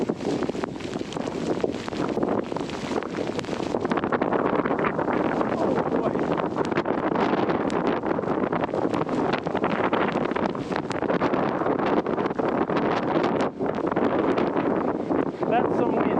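Strong wind gusts roar steadily against the microphone during a fat bike ride through a blizzard, a loud continuous buffeting with surging peaks and no speech.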